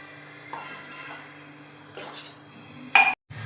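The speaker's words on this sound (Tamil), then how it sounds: "தேவையான தண்ணி ஊற்றுறேன்." Water poured into coconut paste for salna in a home kitchen, with a soft splashing pour, light clinks of a vessel and a sharp metallic clatter near the end.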